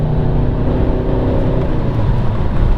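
An Alfa Romeo 156 drives along a road, its engine giving a steady, loud drone mixed with road noise from inside the car.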